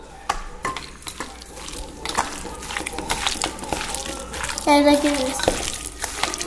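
Hands squish and slap through a wet olive oil marinade in a bowl, with irregular close mixing sounds under people chatting.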